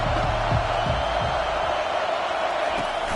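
A stadium crowd at a football game roars loudly and continuously, a dense wash of cheering with a few thumps early on.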